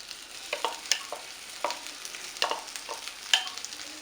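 Mashed potato filling for stuffed bread rolls being mixed in a pan: soft irregular scraping and tapping of a spoon over a faint sizzle, close and fairly quiet, with no talking.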